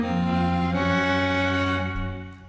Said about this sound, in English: So what you're hearing there is basically the violin